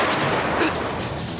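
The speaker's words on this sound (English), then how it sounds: "Gunfire, no flare." Gunfire in the Attack on Titan anime, a dense, rumbling burst of shots and booms filling the clip at steady loudness with no clear separate reports.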